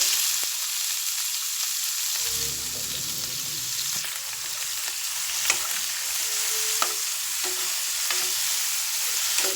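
Cumin, chopped garlic, sliced onion, ginger and green chili frying in hot oil in a pan, a constant close sizzle with occasional light clicks and scrapes of stirring.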